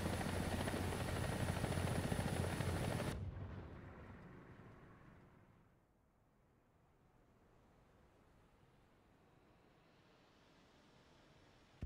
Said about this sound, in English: Helicopter now.